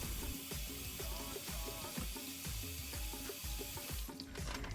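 Chopped potatoes rinsed in cold water in a kitchen sink, a steady loud rush of running tap water with rhythmic sloshing and splashing as the pieces are swirled and handled.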